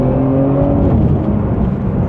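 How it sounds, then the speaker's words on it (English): A Porsche 911 Turbo accelerates hard in third gear with a deep, loud engine roar, its pitch climbing steadily under a rushing turbo whoosh, heard from inside the car with no talk. "Little bit of turbo lag and then whoosh."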